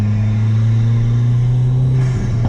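A car engine with a stock diverter valve runs at light throttle, a steady close low hum that shifts slightly as the revs change near the end, with no talking.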